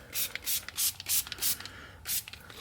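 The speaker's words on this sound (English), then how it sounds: "Just gonna give it a nice little spraysy daisy." Ethos D3FY car care cleaner sprayed from a trigger bottle onto a dirty car surface, six quick close hissing bursts in an even rhythm, then a brief pause and one more spray.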